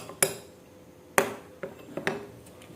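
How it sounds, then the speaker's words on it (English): A spoon clinks against a bowl while honey and coffee grounds are mixed, several sharp separate taps spaced irregularly over soft stirring. "Continue mixing until everything is well blended."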